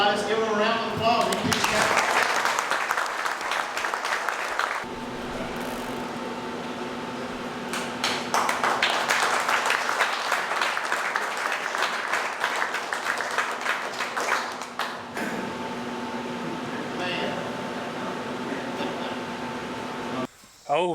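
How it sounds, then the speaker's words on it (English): A crowd at a bass fishing tournament weigh-in breaks into sustained applause, with clapping and cheering rising and falling over about twenty seconds. A steady hum runs underneath, and short pauses divide the bursts. "let's give them a round of applause"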